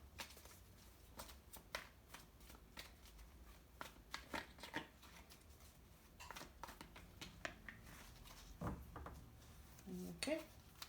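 A deck of cards being shuffled and handled, a run of soft riffles and taps close by and fairly quiet, with occasional speech mixed in.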